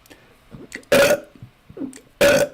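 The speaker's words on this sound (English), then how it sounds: "I can burp on command" A man gives two loud, throaty burps on command, a short gap between them, with faint murmuring in the quiet stretches.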